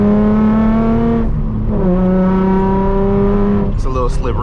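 Rev-matched downshifts from a Nissan Z running a titanium exhaust, a loud steady engine note that dips and swells between gears as the car drives, with brief talk near the end.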